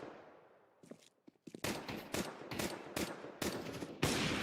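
Gunfire in a competitive esports video game match: after a few scattered shots, rapid loud bursts ring out in a steady repeating rhythm, close and dense, with no voices over them.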